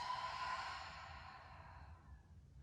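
A long, slow exhale of breath during a beginner yoga class, steady and close, fading gradually over a couple of seconds with no talking.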